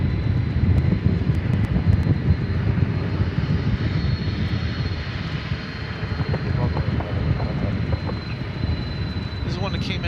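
A UPS Boeing 767 jet at DFW Airport sends a steady, loud engine roar and rumble across the whole stretch, with wind buffeting the microphone and people talking underneath.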